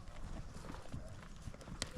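Horse hooves clip-clop steadily and fairly close as riders cut a cow from the herd during cattle sorting in an Idaho arena, over a busy background of ambient noise.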